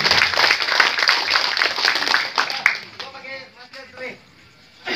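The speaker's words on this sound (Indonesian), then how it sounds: "Tepuk tangan untuk Pak Sahat dan Pak Udin." Audience applause at a thanksgiving gathering and recess meeting with regional council members, honoring Pak Sahat and Pak Udin; scattered clapping under speech fades after about three seconds, leaving quieter voices.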